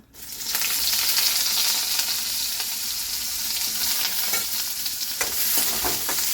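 Eggplant sizzles in hot oil in a pan while being stirred, a dense continuous frying hiss with scattered scraping and clinking from the utensil.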